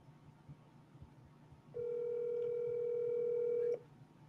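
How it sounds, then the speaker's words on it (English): A steady telephone dial tone hums for about two seconds after faint background noise, then cuts off abruptly. "Let's see if we can get Luke on the phone."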